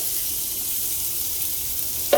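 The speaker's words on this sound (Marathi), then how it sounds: "हा बघा मी कांदा भाजायला टाकते" Steady hissing sizzle of onion frying in hot oil in a pressure cooker, continuous and close, with a faint stir or scrape near the end; no voices.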